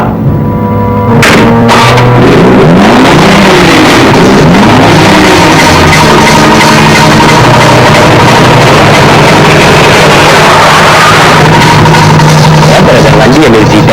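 A car engine runs while the vehicle drives, then the vehicle comes to a stop. There is a loud, steady motor drone, with a few sharp knocks near the start and rising and falling tonal sweeps.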